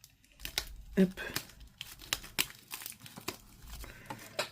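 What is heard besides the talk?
opening sealed Pokémon deck packaging with a small knife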